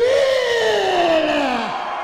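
Arena crowd at a professional wrestling show roaring loudly and continuously, with a sustained yell sweeping downward over the din.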